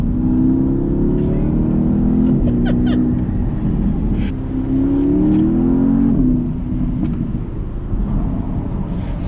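Engine of a 2019 Porsche Panamera GTS heard from inside the cabin while driving, a steady loud drone that rises and falls in pitch as the car speeds up and shifts, with faint clicks and no talk.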